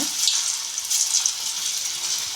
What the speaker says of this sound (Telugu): ఇప్పుడు ఆయిల్ కాగింది ఫ్రెండ్స్ వేసుకున్నాం దీంట్లోకి ఇవి చిన్న చిన్నగా